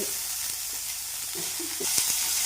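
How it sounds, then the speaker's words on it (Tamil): Chopped hyacinth beans sizzle in hot oil as they are stir-fried in a pan, a continuous crackling hiss with small scraping stir sounds close by, growing slightly louder toward the end. "அவரைக்காயெல்லாம் சேர்த்தாச்சு. இது கொஞ்சம் லைட்டாக கலரி கொடுத்துக்கலாம்."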